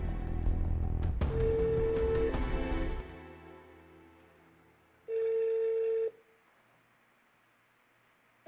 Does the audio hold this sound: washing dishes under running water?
no